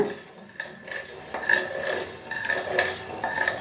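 Milk and sugar are being stirred in a pot on a stovetop, with a spoon scraping and clinking against the metal in irregular strokes that are close and moderately loud, and no voices.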